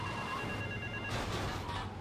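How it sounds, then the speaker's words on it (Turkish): A telephone rings in the video game GTA Vice City: The Definitive Edition, a steady electronic ring holding at moderate level over a low background hum. "başka telefon çalıyor bu çalmıyor"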